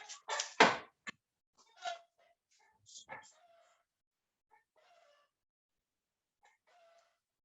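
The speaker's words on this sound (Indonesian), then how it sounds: "Ayam lagi bertelur kayaknya itu." A laying hen clucks in a few loud, close bursts, followed by fainter scattered clucks spaced out over several seconds in a quiet setting.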